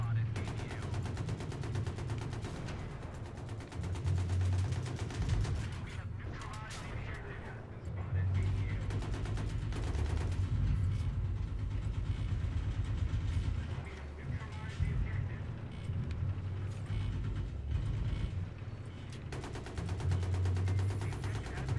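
A tank gunner's machine gun fires repeatedly in Battlefield 3 on the Damavand Peak map, loud rattling bursts that recur over a constant low engine rumble from the moving tank.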